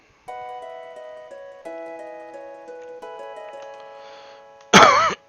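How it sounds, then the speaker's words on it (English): One loud, sharp cough bursts out close to the microphone near the end, cutting over soft, steady electronic game music. "Let me cough in your ear like that."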